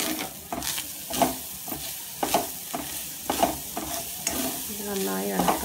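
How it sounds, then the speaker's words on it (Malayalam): Grated coconut and sugar sautéed in a pan, a soft sizzle broken by repeated spatula scrapes and stirring strokes at an uneven rhythm, close by, with a brief tonal sound near the end. "അപ്പോൾ ഞാൻ ഈ തേങ്ങ ഒന്ന് വഴറ്റിയെടുക്കുന്നുണ്ട്"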